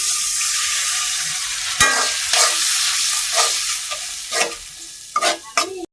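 Spices sautéing in a pan for a Hilsa fish and taro curry, a bright continuous sizzle broken by several sharp scraping stirs toward the end, close and fairly loud, no talking.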